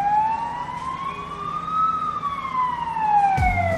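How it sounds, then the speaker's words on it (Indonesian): An emergency siren wails in a slow rising and falling sweep at moderate distance, with traffic rumbling underneath and a sharp thump near the end. "ambulan berbunyi, pertanda adanya sebuah insiden yang baru saja terjadi"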